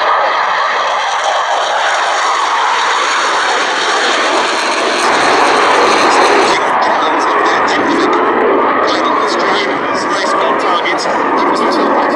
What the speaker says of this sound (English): It was one of just 29 new build Mark II Sea Vixens.